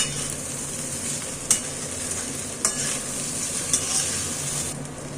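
Flattened rice pulao with sugar is stirred in a hot pan, giving a steady sizzle with soft scraping and three light clinks of the spoon against the pan, close and alone.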